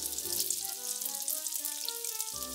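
Sausage-filled piroshki fry in a pot of clear hot oil, producing a bright, continuous hissing sizzle heard close up and alone, with faint low tones underneath.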